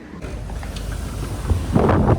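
Breezy wind buffets the microphone outdoors at a Goa resort, a steady low rumble that swells into stronger gusts toward the end.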